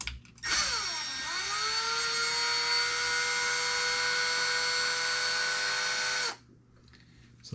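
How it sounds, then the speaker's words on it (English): Power driver spinning out a 2mm retaining screw from the front upper shock mount of a Traxxas XMAXX RC truck, a steady high whirring buzz for about six seconds that winds up at the start and cuts off sharply, close and alone. "we're going to start by removing the retaining screw in the front upper shock mount"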